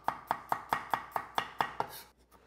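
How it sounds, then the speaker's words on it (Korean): A knife slices and minces garlic cloves on a cutting board in eight quick, evenly spaced chops, close and crisp, ending with a soft scrape and no talking. "이렇게 그냥 편 썰어서 다지는 거"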